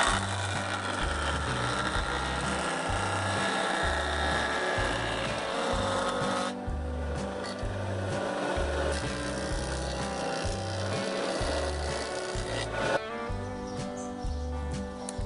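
Wood planer machine feeding a board of sucupira wood, a steady mechanical drone with a rhythmic pulsing hum and a change in pitch partway through as the cut ends.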